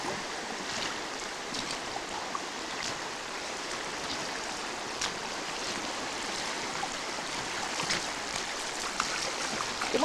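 Flowing creek near Sitka, Alaska, a steady broad rush and splash of water running continuously and fairly close, with no voices.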